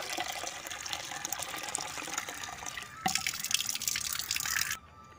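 Water is poured onto a potted plant, a steady close splashing and trickling that shifts in tone partway through, as if the stream lands differently, then stops abruptly.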